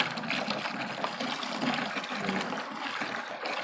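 A gallon of water splashing steadily into a bucket for mixing carnauba wax, a continuous pouring rush with a faint trickle throughout.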